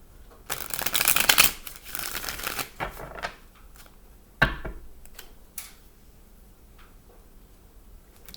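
Close, crisp riffling of tarot cards being shuffled, a dense flurry at first, then scattered softer taps and slides.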